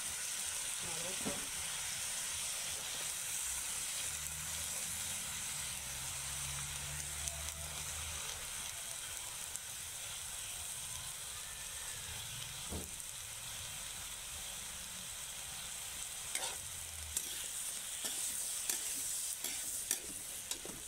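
Vegetables stir-fry in a pan, Chinese-style, with a constant loud sizzle and hiss and repeated scraping and stirring clatter, while a voice speaks briefly and faintly in the background.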